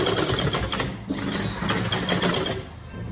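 A sewing machine runs steadily while stitching a fabric flower onto a garment sleeve, a close, continuous mechanical whir with a brief pause near the middle before it resumes.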